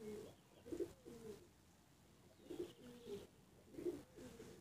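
Pigeons kept in a coop for sale, including a young bird and an adult male, coo in repeated low, throaty phrases roughly every second or so, faint and close, with no talking.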